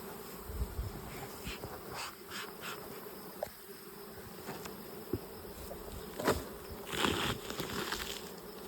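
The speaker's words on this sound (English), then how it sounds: "A nice box of bees, nothing extra." A steady, dense buzz of many honeybees fills the air around an open hive during a summer split check, with occasional louder bees passing close by and soft handling noises.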